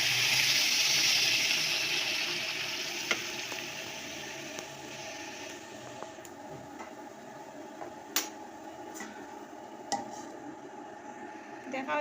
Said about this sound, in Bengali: তো এখন জল দিলাইমু, জল দিয়ে একটু ঢাকা দিলাইমু।